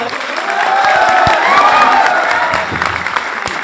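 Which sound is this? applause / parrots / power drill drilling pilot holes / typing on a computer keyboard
applause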